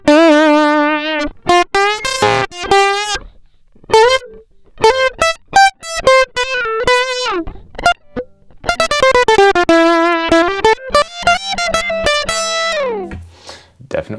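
Distortion effect from the Kalide Collage audio plugin on guitar and electric piano, with gritty, crunchy sustained notes and chords played loud and up front in phrases separated by brief pauses.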